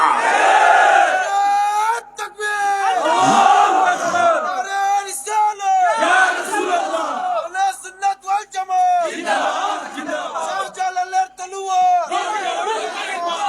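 A crowd at a religious sermon shouting slogans in loud, rhythmic bursts of massed voices, with brief pauses between chants.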